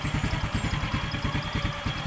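A Honda XRM 110 motorcycle engine idles after carburetor tuning, a steady, close, rhythmic putter with a fast, even pulse and light mechanical clatter, with no talking.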